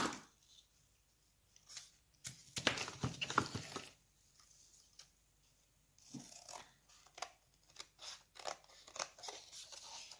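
Scissors snip through thin, flexible cardboard, cutting two roughly equal pieces for a small craft swing. Bursts of close, crisp cuts come in quick clusters with short pauses between them, with no talking.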